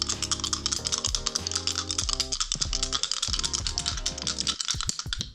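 Dice rolled onto a surface during a tarot card reading give a quick run of light clicking and rattling, heard over steady background music.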